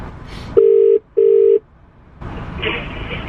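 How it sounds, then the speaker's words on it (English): Two steady electronic dialing tones, each about half a second with a short gap, heard through car speakers, followed by a low hiss of ambient noise. "So we'll start off ringing one of the numbers."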